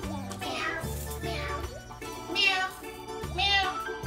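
Cat mob meowing in Minecraft, several drawn-out meows spaced across the moment over a steady low game music bed, with a voice also imitating the meow.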